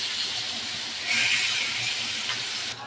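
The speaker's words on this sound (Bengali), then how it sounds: "তেল গরম হয়ে গেছে, দিয়ে দেব মাছ।" Fish fries in hot oil with a steady crackling sizzle that swells slightly after the first second and then holds constant, with no one speaking.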